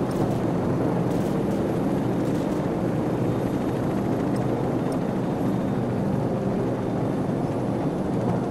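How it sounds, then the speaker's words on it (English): Friendly helicopters in a Call of Duty 4 game battle, a steady broadband rotor roar holding loud and continuous throughout, with no other clear events over it. "Friendly helicopters entering the area."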